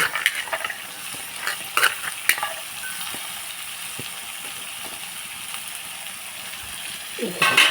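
Broad beans and green beans fry in a pan, a loud close sizzle with repeated scraping and clattering as a utensil stirs them, the hiss swelling again near the end.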